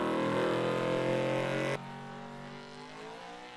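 A big block high-output class pulling truck at a 2023 East Coast Nationals truck and tractor pull, its engine screaming at full throttle, loud and harmonic-rich, then cutting sharply to a lower, quieter drone midway, with no voices.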